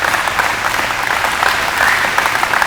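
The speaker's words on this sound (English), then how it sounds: "Please give all of them a round of applause once again." An audience at a graduation presentation applauds, a dense, steady wash of clapping from many hands that carries on without a break.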